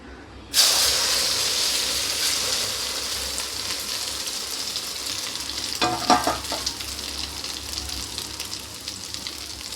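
An egg and potato mixture drops into hot oil in a kadai and sizzles loudly at once, a steady frying hiss with a brief crackling flare near the middle.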